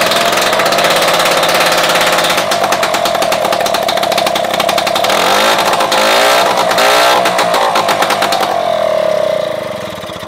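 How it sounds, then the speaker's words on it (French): A barn-find Solex moped's small engine fires up and runs steadily, a loud continuous buzzing putter with slight changes in pitch and rhythm, close by, before easing off toward the end. "On va regarder si ça démarre."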